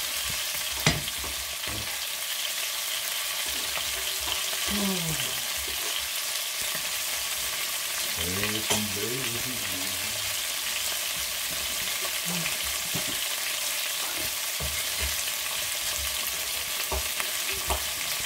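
Chicken pieces sizzle steadily in a frying pan for a Provençal-style chicken dish, a constant close hiss broken now and then by the scrape and clack of stirring.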